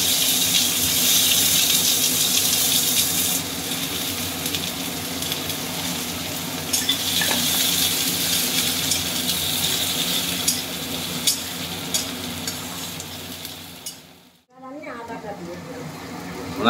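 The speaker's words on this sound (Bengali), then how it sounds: "এবার পেঁয়াজ কুচিটা তেলে দিয়ে দিলাম।" Chopped onion drops into hot oil already tempered with cumin seeds and dried red chilli, producing a loud, steady sizzle and frying hiss up close for most of the stretch, ending in a brief pause and a fresh burst.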